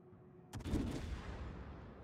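Battleship main guns firing in the World of Warships naval game, a sudden loud booming blast with a deep rumbling tail that rolls off over the following second or so.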